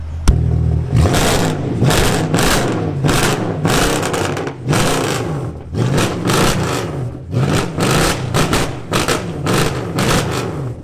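A tuned 540 bhp Mercedes C63 AMG V8 engine and exhaust roars through repeated rev bursts, loud and close, each surge rising and falling in quick succession with no talking.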